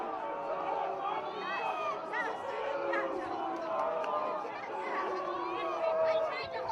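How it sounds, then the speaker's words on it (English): Lacrosse crowd in the lower bowl of a college stadium during a men's game, a lively mix of cheering, shouts and crowd chatter that swells and ebbs, with voices heard throughout. "A fantastic crowd here in the lower bowl at ECAV Stadium today, and you can hear and feel the energy in this one, as after the face-off, Pilato was tripped u"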